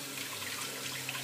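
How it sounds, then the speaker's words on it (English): Water runs steadily from a tap as hands are washed under the stream at a kitchen sink after cracking a bad egg, a continuous close splashing hiss with no talking. "I'm just gonna wash off my hands because that was disgusting."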